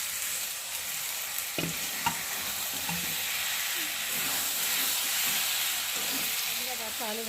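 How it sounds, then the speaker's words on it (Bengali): Fried potatoes being stirred and tossed in a hot pan for an egg dish, giving a steady sizzling hiss with scattered scraping clicks from the spatula. The sound stays close and even throughout, with no talking. "ভেজে রাখা আলুগুলোকে দিয়ে ভালো করে কষিয়ে নেবে।"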